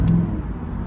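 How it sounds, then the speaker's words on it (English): An Audi RS4 engine runs at idle with the hood open, a low, close mechanical rumble with a brief brighter rasp at the very start, then a fairly even hum. "You wanted the RS4 started to listen to it."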